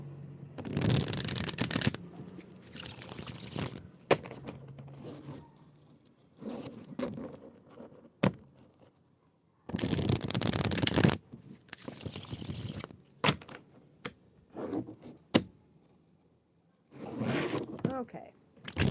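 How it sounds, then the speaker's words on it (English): A deck of tarot cards shuffled in several short riffling bursts with pauses between, close and fairly quiet, with small clicks and taps in the gaps. "I always like to shuffle my cards."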